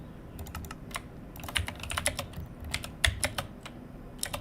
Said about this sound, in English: How loud is my keyboard?